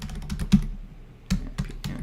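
Someone types on a computer keyboard, producing a few scattered key clicks and taps with short pauses between them, close and moderately loud with no talking.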